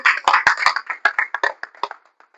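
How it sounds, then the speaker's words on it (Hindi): Seminar audience clapping, a short round of close, sharp handclaps that starts loud and thins out to a few scattered claps before stopping. "इसके लिए एक ताली तो बनता है सर।"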